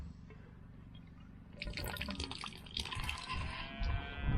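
Water leaks and splashes out of a fitting on a home water system with no pressure, first a faint trickle, then a louder, steady gushing and dripping close by.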